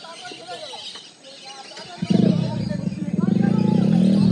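Small birds chirp and tweet faintly in the first half at a bird habitat in Ghatal, then a loud low engine rumble from a passing vehicle swells and drowns them out.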